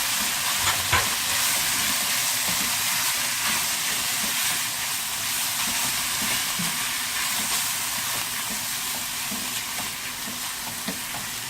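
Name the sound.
onions frying on high heat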